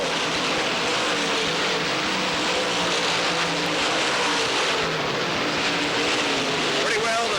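Dirt track race cars roar through corners 3 and 4 during a late-race run at the 1989 Pennsboro Speedway Dirt Track World Championship, a dense, continuous engine drone with a race announcer talking over it.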